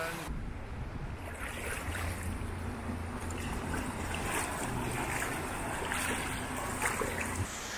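Waves wash onto the beach at Panglao Grande Resort on Panglao Island, Bohol, Philippines, a steady, rushing surf mixed with wind buffeting the microphone, continuous and fairly loud.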